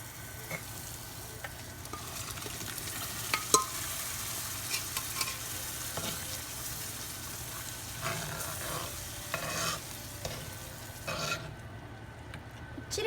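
Continuous frying sizzle with a spoon scraping and stirring cooked dal into a pan of frying ingredients, occasional clinks, steady and close.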